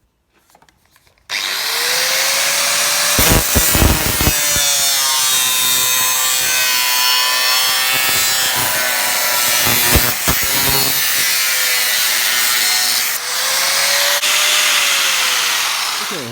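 A power tool grinds and cuts through a car body panel on a VW Golf Mk1 GTI, starting abruptly into a loud, continuous, close whine with brief load changes and snags; no voices.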